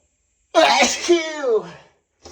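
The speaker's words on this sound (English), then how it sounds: "I'm gonna sneeze." One loud, close human sneeze, a sudden burst followed by a drawn-out voiced tail, then silence.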